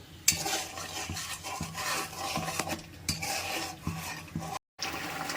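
Okra being stirred with salt in a pan, a spoon scraping and rasping in repeated strokes with a soft sizzle underneath, close and steady, with a brief dropout near the end.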